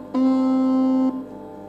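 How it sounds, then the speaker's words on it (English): A Minecraft goat horn sounding its Sing call, one sustained, steady horn tone about a second long that rises in sharply and cuts off cleanly, leaving a brief fading tail and quiet background. "The next one is Sing, which sounds like this."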